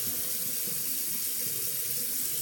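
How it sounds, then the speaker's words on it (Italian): A tap pours hot water into a sink, a steady near rushing splash that holds evenly throughout, heard alone without speech. "Un po' di acqua calda"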